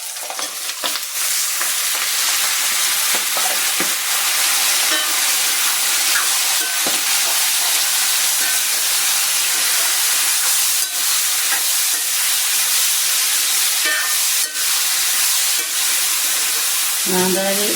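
Bird's eye chillies fry in hot oil for a lime pickle, giving a steady, loud sizzling hiss with scattered crackles and pops that runs throughout, with no talking.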